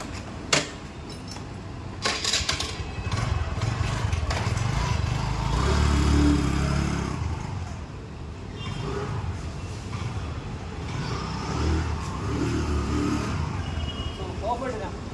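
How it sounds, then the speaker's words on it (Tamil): Motorcycle engine idling and running steadily just after its belt was replaced, a close mechanical rumble with small rises in revs and a few metallic clicks near the start. "வெஹிக்கிளை இப்போ ரன் பண்ணி காட்டுறேன்."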